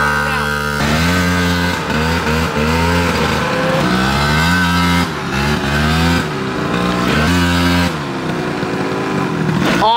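A Surron dirt bike revs on a woods trail, its engine rising and falling in loud, close throttle blips and sustained whine, with faint voices underneath.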